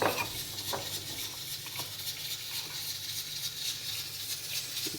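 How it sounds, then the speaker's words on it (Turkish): Isot pepper is stirred into oil in a pan, giving a soft continuous sizzle with scraping spoon strokes and light clinks against the pan, close and fairly quiet. "Üç yemek kaşığı çöpü karıştırdım."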